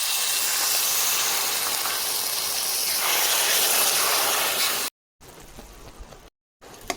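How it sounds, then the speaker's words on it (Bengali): Sugar and jaggery come to a boil in a pan for amla pickle, giving a steady, loud, close hissing sizzle that runs for several seconds before cutting off into near silence with brief faint sounds. "চিনি আর যে গুড় দিয়েছি কত সুন্দর ফুটতে শুরু করেছে"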